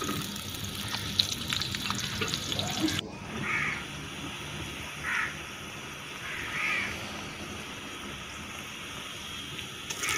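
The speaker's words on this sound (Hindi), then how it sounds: "और इसके साथ ही लहसुन, और इसे फ्राई करेंगे।" Garlic and onion frying in a pan for a whole masoor lentil dish, giving a soft continuous sizzle that drops abruptly after a few seconds and then continues quietly with faint clinks.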